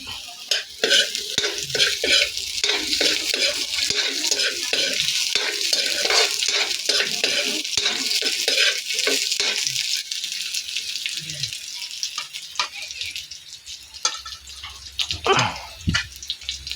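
Vegetables and ginger stir-fry in a hot pan for ginataang sugpo, a prawn dish, with a busy sizzle and repeated scraping stirs. The sizzle eases and grows more broken toward the end.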